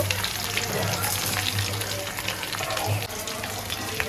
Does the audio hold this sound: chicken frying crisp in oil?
yes